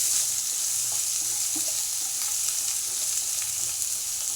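Finely chopped onion sautéing in hot oil with cumin seeds for a cashew curry, a steady close sizzle and hiss running throughout with faint stirring touches.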